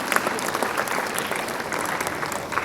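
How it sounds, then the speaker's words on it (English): Audience applause at the Dr. Paulos Mar Gregorios Award 2019 ceremony in Delhi, a steady, dense clapping from a large crowd that holds at an even level throughout with no pauses. "Once again, a round of applause for Ms. Aruna Roy"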